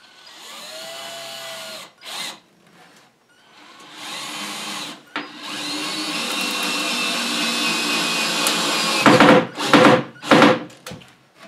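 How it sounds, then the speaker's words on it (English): A power drill drives 2-inch screws into the wooden top of a basement hydroponic float box, with short motor bursts, a long whining run as a screw sinks in, then quick thunking pulses close up. "so we've got the top on and we'll be screwing it down now"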